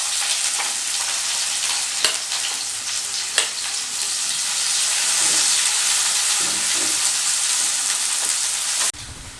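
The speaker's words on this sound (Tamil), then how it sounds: "ஸோ கறி லீவ்ஸும் ஆனியனும் கட் பண்ணி வச்சதை போடுறோம்." Curry leaves and chopped onions hit hot oil in a pan and sizzle loudly, a steady close crackling hiss with occasional sharper pops and stirring, with no one talking, before the sizzle cuts off abruptly at the end.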